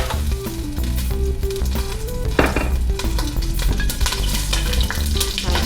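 Pork tenderloin searing in hot oil, a loud close continuous sizzle with crackling spatter and occasional metal utensil clinks against the pan.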